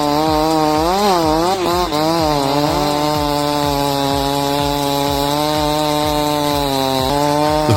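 A Husqvarna 372 XP chainsaw cutting a tree roars loudly and close, its engine pitch wavering as the chain bites into the wood, then holding a steady, rapidly pulsing drone.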